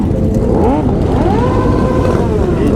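Motorcycle engines rev and drone steadily at a large street motorcycle meet in Houston, a loud continuous roar with rising and falling pitch sweeps throughout, close by, with crowd voices faintly mixed in.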